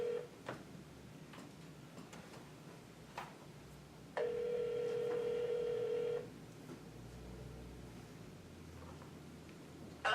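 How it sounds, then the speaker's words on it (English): A phone is dialed on speakerphone during a town select board meeting, with a steady tone holding for about two seconds between scattered ticks and soft room noise, and no one talking. "we've got to call Denise"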